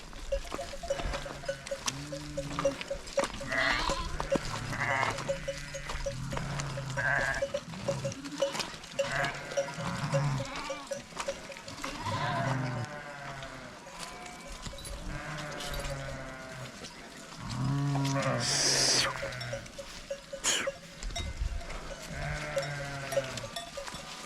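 A flock of sheep bleating repeatedly, many overlapping calls near and far, with a faint steady ringing tone in the background.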